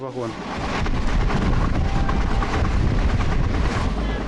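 Indian passenger train interior, a loud continuous rumble and rattle of the carriage on the rails filling the whole stretch, with voices faintly mixed in.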